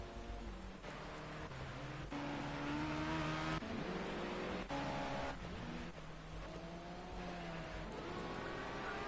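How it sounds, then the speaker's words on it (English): Race cars in a time attack session at Donington Park National circuit drive past at a distance, their engines whining and shifting pitch continuously under a steady wash of rain and wind noise, with no talk heard. "If they zoom across the line here, no improvements for the track day A cars here."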